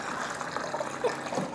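Water is poured into a drinking glass, a steady gushing, bubbling fill lasting under two seconds, close and moderately loud with no talk.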